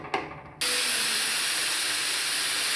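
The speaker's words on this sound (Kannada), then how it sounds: "ಈಗ 1 ವಿಷಲ್ ಆಗಿದೆ" A pressure cooker on the stove, cooking simple homemade pulao, lets out its whistle: after a brief muffled clatter, a loud, steady steam hiss bursts out and holds continuously without pause.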